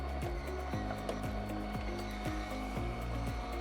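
A Faber slow juicer runs on its puree function, giving a low motor hum with a regular cycle of rising whirring pulses roughly every half second, close and steady, with no talk.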